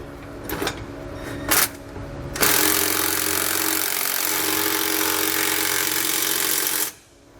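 Bolts on SumoSprings Maxim Custom helper springs are tightened on a 2020 Winnebago: a few short mechanical bursts, then a loud, sustained power-tool whir lasting several seconds before it cuts off.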